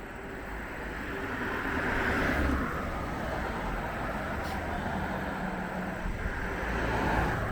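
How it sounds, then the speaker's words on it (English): Two cars passing on Route 40 during an e-bike ride, heard as a broad rushing swell of tyre and engine noise over steady wind, rising toward the middle and again near the end. "Here's 2 cars here."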